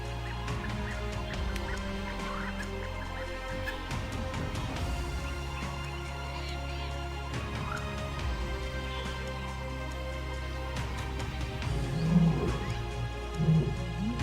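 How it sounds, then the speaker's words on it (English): Lions roaring far off in the wild, deep calls carrying over a long distance, heard as low rumbling roars under a steady background of other animal and bird calls. "listening to distant roars, which can echo as far as 8 kilometers"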